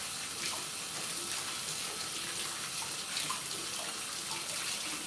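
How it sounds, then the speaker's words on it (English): Ingredients are washed under a running tap in water and white distilled vinegar, giving a steady, close, even gush of flowing water with no pauses and no voices. "I'm just washing my ingredients up"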